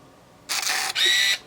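A Nikon TW Zoom compact film camera fires on its self-timer, giving two back-to-back motorized bursts of about half a second each, a shutter release followed by film advance, loud and close against near silence.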